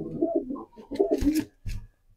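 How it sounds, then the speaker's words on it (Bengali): A male racing pigeon in a pigeon colony coos in several low, throaty phrases, up close, with short pauses between the bursts and no talking. "খুবই সুন্দর কবুতর, এটা নর কবুতর।"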